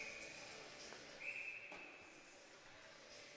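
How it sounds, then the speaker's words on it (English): A sharp referee whistle blast cuts through the steady roar of an arena crowd, brief and fairly prominent against the constant background noise. "And a whistle there once again."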